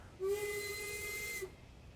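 A steam locomotive's safety valve in Train Sim World 2 lifts at 225 psi, giving a loud, steady whistling hiss that lasts just over a second and then cuts off.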